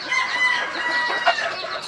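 Bulik gamefowl hens and roosters cluck steadily with a rooster crowing partway through, a busy, close flock sound throughout with no talking.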